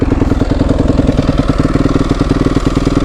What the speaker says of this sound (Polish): Dźwięk silnika, no jak z Yamahy, że tak powiem.